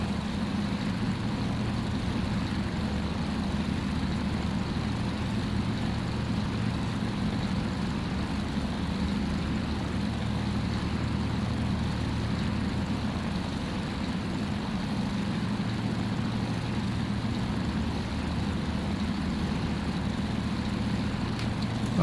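A Ford Tri-Motor in Microsoft Flight Simulator 2024 taxis with a steady low engine drone, an even rumbling hum that holds constant throughout without voices.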